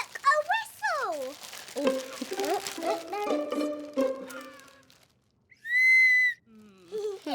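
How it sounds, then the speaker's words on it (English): A toy whistle gives a sustained, bright, shrill tone in one long blow, following lively animated voices and playful sounds. "Look, a whistle!"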